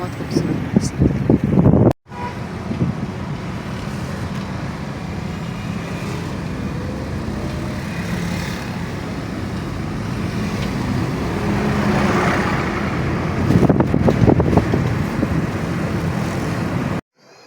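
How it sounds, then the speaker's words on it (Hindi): Breeze blowing outdoors, a steady rushing wind buffeting the microphone over a low traffic rumble, with someone talking over it at the start and end. "देखो बहुत प्यारी हवा चल रही है"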